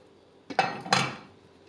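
Frying pan set down over a plate to flip a pepper and sausage omelette, making two quick clattering knocks of metal on ceramic, close and fairly loud, then a short fading rattle.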